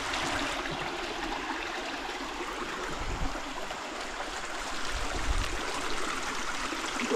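Water rushing steadily along a washed-out creek on the Appalachian Trail, a constant close broadband babble with no pauses.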